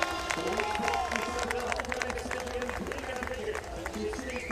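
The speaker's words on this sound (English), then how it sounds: "the applause from the crowd for the race leader coming from all of our spectators" Spectators at the 2023 UCI Cyclo-cross World Championships women's junior final clap and cheer for the passing race leader, a faint, distant crowd sound beneath a commentator's steady talk.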